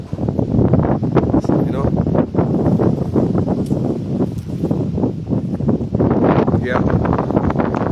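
Strong, gusty wind during a cold front in Jamaica buffets the microphone in rough, uneven bursts, with people talking briefly over it.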